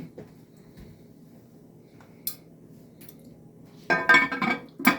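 Metal lids clink and clatter onto hot bread-baking pans in a quiet kitchen, a soft tap midway followed by a cluster of louder close metallic knocks and scrapes near the end.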